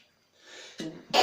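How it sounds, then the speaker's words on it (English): One person sneezes close to the mic: a soft intake of breath, a short catch, then a sharp, loud burst at the end. "Hold on, we got to sneeze."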